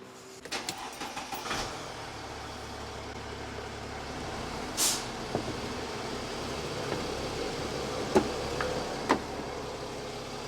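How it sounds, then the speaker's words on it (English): On a Mercedes ML350 W164, the Airmatic compressor hums steadily in the background while it inflates the front left suspension, with scattered clicks and knocks nearby and no talk. "That'll kick the pump in, the compressor in, and we'll just inflate this front left"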